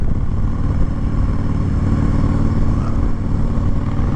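Indian Scout Bobber motorcycle riding through corners, its engine a steady loud low rumble with constant road and wind noise throughout, no voices.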